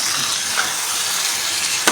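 Fish pieces sizzle in a pan coated with tomato masala, a steady close hiss of frying that runs throughout without a break.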